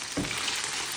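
Ginger beef stir-fry sizzles in a pan in one brief, close burst of hissing, with a single stirring scrape near the start.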